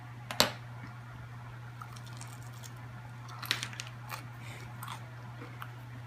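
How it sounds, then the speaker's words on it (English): A single sharp, close crunch comes from biting into a baked chicken nugget coated in cornflakes, followed by quieter chewing crackles in an otherwise quiet room. "I don't know if you can hear that crunch,"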